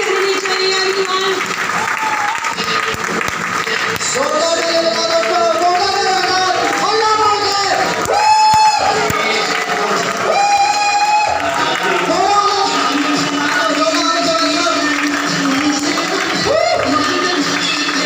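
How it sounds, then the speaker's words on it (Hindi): An indoor audience at a wellness event applauds and cheers continuously, a dense wash of clapping with whoops rising over it, while voices and amplified speech carry on through the crowd noise. "आपकी तालियों में आवाज गूंजती रहनी चाहिए everyone"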